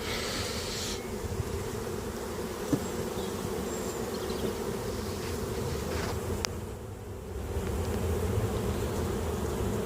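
A dense, continuous drone of many honey bees buzzing at an opened hive with a super on, steady throughout, with a couple of faint clicks and rustles.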